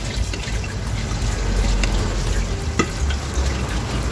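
Sinigang tuna soup bubbles at a steady, loud boil in a pot on the stove, with occasional clinks and faint voices in the background.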